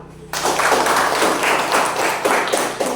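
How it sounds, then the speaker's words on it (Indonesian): A classroom of pupils claps hands together, a dense, loud burst of applause that starts abruptly and holds steady with a rhythmic pulse for a few seconds. "Tepuk tangan dulu."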